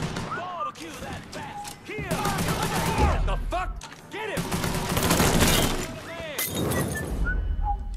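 Rapid gunfire shatters and breaks cover during a firefight in the video game Mafia III, with dense bursts of shots, cracking debris and whistling ricochets throughout, loud and close, while someone talks over it.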